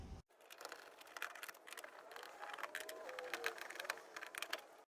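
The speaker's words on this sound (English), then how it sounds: "Once we get those three screws out" Screws are backed out of the control panel of a Kenmore Oasis/Whirlpool Cabrio washer, producing quiet, close, ratchety clicking and small metallic ticks in quick irregular bursts.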